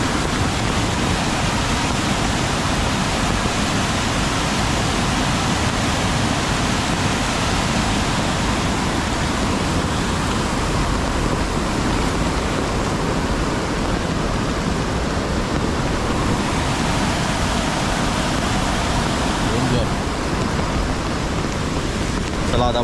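Roaring, unbroken wash of the flooded Kajali river in a Konkan village, rushing water mixed with heavy monsoon rain, loud and close throughout with no pauses.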